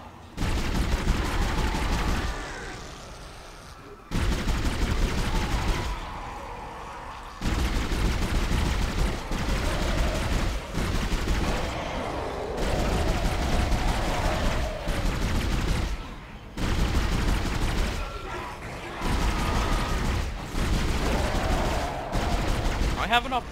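Repeated gunfire bursts in Dead Space, loud blasts in clustered volleys separated by short quiet gaps, continuing over about twenty seconds with some background voice sounds.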